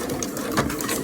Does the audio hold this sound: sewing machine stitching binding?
yes